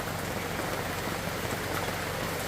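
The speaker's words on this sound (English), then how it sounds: "hopefully this rain subsides a little bit" Rain falling steadily at an outdoor field day amateur radio station, a dense, even patter of drops on surfaces that stays constant and fairly loud with no talking.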